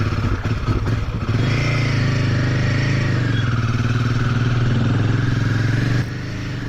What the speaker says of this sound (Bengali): বেরোবো রয়্যাল এনফিল্ড গরিলা 450